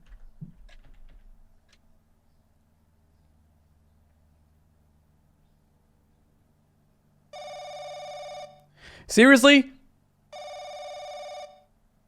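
Late-night telephone in the horror game Stranger in My House, ringing in two long electronic bursts separated by a pause, loud and close in an otherwise silent room, with a brief spoken reaction between the rings.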